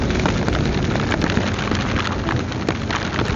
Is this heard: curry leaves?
no